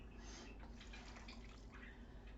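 Water, about one and a half cups, pours steadily into a beef pot pie mixture, a faint continuous splashing trickle with no talking.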